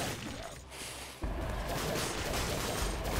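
Grenade blasts in the Dead Cells action game, a sudden loud burst arriving after a quieter stretch and then a dense, sustained rumble of repeated explosions and crackling debris with no voices.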